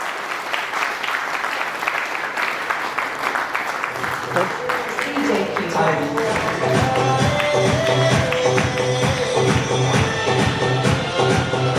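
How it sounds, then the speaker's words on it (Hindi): An audience claps loudly to welcome Mamta Saran onstage, a dense, sustained round of applause that music joins partway through and carries on beneath to the end. "वेलकम ममता साहब, के लिए जोरदार तालियां हो जाए।"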